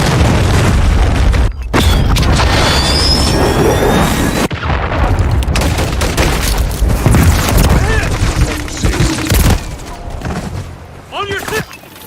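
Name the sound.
cruise missile explosions in video game Call of Duty MW III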